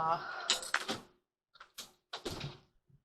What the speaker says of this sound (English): trying to shut the door.